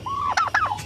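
A farm-kept turkey gobbles once up close, a loud rapid warbling burst lasting under a second, heard alone.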